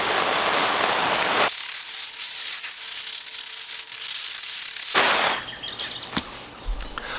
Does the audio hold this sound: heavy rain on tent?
yes